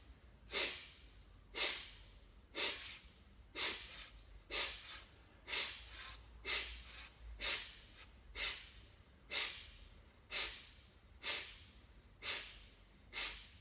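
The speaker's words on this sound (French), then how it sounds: "On bloque dans la narine droite. On inspire bien sur la narine gauche." Slow yoga breaths are drawn in through the left nostril while the right is held shut. About thirteen evenly spaced, close, hissing nasal breaths come about one second apart, with no talking.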